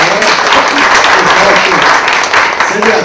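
Applause from an audience in a hospital setting, a dense continuous round of clapping that holds steady and fairly loud throughout, with voices mixed in underneath.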